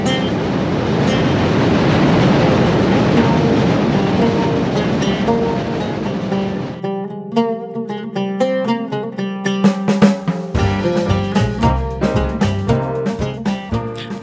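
A train rumbles steadily across the long Jamuna rail bridge in Tangail, Bangladesh, a loud continuous roar that gives way to rhythmic clacking of wheels over rail joints as the carriages roll past close by.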